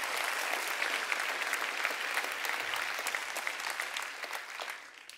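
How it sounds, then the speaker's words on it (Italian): Sustained applause from a live comedy show audience in Italy, dense and steady for the whole stretch, fading slightly toward the end. "un applauso ai tecnici"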